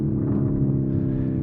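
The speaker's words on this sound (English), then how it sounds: "once it gets going, those turbos spool up. It is very, very fast." A 2024 Lamborghini Urus S with a twin-turbo V8 pulls hard under acceleration, producing a loud, steady, deep engine roar that holds without a break.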